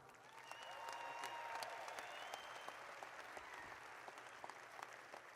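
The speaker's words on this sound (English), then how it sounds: "Let's give a big round of applause for Senator Doug Broxson." Steady applause from a rally crowd for a state senator at a Trump rally in Pensacola, sustained broadband clapping with a few voices rising over it, fairly distant and even throughout.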